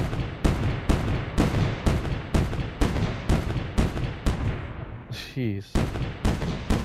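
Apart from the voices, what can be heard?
artillery fire in M.A.C.E. Tower Defense video game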